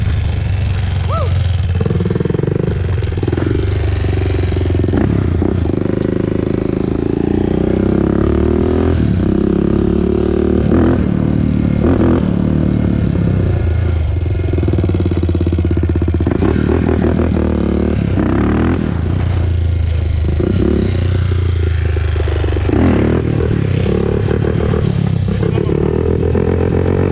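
A 2001 Honda TRX400EX ATV, which has a ticking noise when turning corners, runs loud and close throughout while being ridden, turned and wheelied, its engine revving and falling with some clatter and faint voices.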